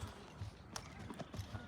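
A stallion's hooves clip-clop in a short, uneven series of soft, dull knocks at close range, with no talking over them.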